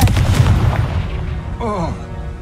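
A Confringo blasting curse goes off in a video game, landing as a loud, dense low boom that rolls out over a couple of seconds, with a brief rising tonal whoosh near the end.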